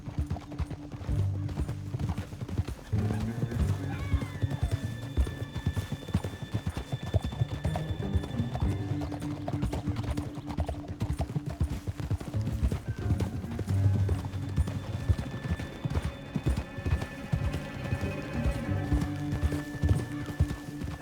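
Horses gallop in Red Dead Redemption 2, hooves clip-clopping steadily and loudly for the whole stretch, with occasional whinnies over game music and rumbling ambience.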